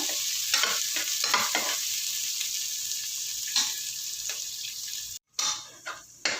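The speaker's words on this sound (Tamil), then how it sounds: "வெங்காயம் கொஞ்சம் நல்லா வதங்கட்டும்" Steady sizzling of onions and a dried red chili sautéing in a pan with occasional stirring scrapes, fairly close, with a brief cut near the end.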